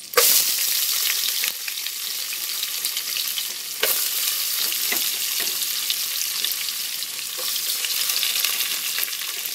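Onions, cashews and green chili frying in a pan for vegetable biryani, a loud, steady, close sizzle with brief stirring scrapes and no talking.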